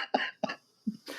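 A few short, sharp coughs in quick succession, close to the microphone, followed by a brief breathy rasp.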